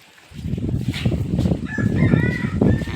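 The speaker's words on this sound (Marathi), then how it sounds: "आणि अजून सगळ्यात मोठी कोंबडी आणि कोंबडा दाखवला" A large rooster crows loudly and close among clucking hens on a grassy village lawn, one drawn-out crow rising over the steady cackling of the flock, with no talk.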